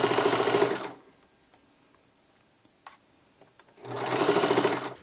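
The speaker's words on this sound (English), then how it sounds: "We're just going to go all the way around," A sewing machine runs in two short fast bursts, top stitching around the edge of a drawstring backpack, with a quiet pause between the runs and no talking.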